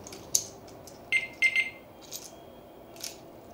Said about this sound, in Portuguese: Isso aqui é um alarme ativado, alarme desativado, tá?